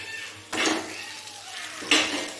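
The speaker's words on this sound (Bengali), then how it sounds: "এখন আমি এর মধ্যে দিয়ে দিচ্ছি কচুর শাক" Taro leaves dropped into a pan of fried hilsa fish head, two quick rustling, clattering hits about a second and a half apart, close and moderately loud over a faint background hum.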